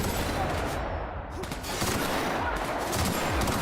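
Gunfire in the video game The Outer Worlds: rapid, dense volleys of shots crackle and thud close by, overlapping into a continuous fusillade for several seconds.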